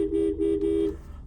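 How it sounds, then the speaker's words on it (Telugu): A car horn sounding a single sustained, mid-pitched honk that lasts just under a second and then cuts off, close and loud with no talking. "హారన్"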